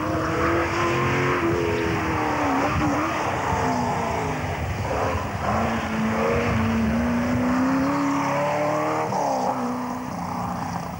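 A 3.7 litre race car at a 1980s hill climb in King Edward Park, New South Wales, its engine roaring loud and steady throughout, the pitch rising and falling as it works through gears and corners.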